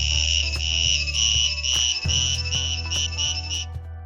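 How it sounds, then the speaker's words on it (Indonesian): A cicada sings a loud, steady high-pitched buzz for about three and a half seconds before it stops abruptly, over a soft background of light music. "Tonggeret bahasa Inggrisnya cicada"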